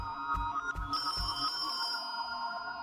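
A telephone ringing in a horror video game, a thin electronic ring holding steady over a few low, dull thumps at the start, fairly faint and with no voices.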